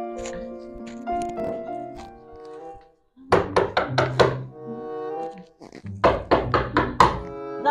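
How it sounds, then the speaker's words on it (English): Knocking on a door indoors, in two quick bursts of about five raps each, loud and close, with talk and some background sound before the knocks. "who's knocking there?"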